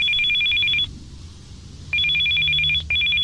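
A telephone in the video game Still Life 2 rings in loud, electronic double bursts: one long ring, a pause of about a second, then two more rings separated by a brief gap, with no talking.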